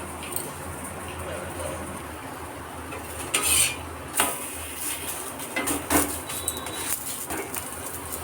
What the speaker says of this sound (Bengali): এবার এই চিলাগুলো বানিয়ে নিচ্ছি।